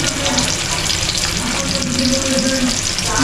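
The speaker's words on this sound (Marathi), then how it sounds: "अशा प्रकारे आपले मासे फ्राय होत आहेत." Several fish frying in oil in a pan over a village-style fire, a loud, dense, unbroken sizzle and crackle held close throughout.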